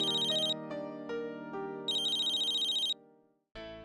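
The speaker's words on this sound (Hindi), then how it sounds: "पूर्वी का फोन इतनी रात को?" A phone rings for an incoming call at night with an electronic melodic ringtone, clear tonal phrases repeating in bright bursts, close and loud in a quiet room before cutting off.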